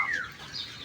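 Gamefowl roosters in cages give a brief clucking call, faint and somewhat distant, followed by quiet farmyard background.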